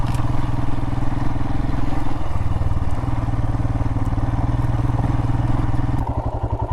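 A Royal Enfield motorcycle rides across rocky desert ground with a steady, loud engine drone and rumble, a rough shift in the last second, and no talking.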